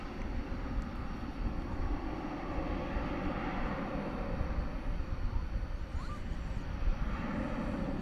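A diverted flight from Midland arrives at DFW Airport at night, a soft, distant engine drone that swells slightly and then eases, steady throughout with no voices.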